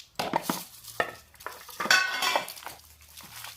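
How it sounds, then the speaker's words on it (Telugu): Fish kebab mixture with curry leaves is stirred in a pan, giving a series of close scraping clinks and spoon-on-metal knocks in an irregular rhythm, with a faint sizzle beneath. "ఇంకా కరేపాకు వేసేసి బాగా కలుపుతాం"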